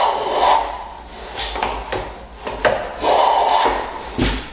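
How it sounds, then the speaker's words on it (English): Hand plane trimming a thin shaving off a wood edge on a shooting board, giving a series of close, rasping swooshes in a steady back-and-forth rhythm with short pauses between strokes, no talk. "you can almost hear the shaving being trimmed off, and this ensures an accurate 45 degree"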